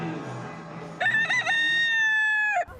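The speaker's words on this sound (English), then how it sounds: "The ever-present roosters of Key West made sure I made the most of my last few hours here." A rooster in Key West lets out a single loud, close cock-a-doodle-doo, a stuttering start that stretches into a long sustained cry before cutting off sharply, over faint background murmur.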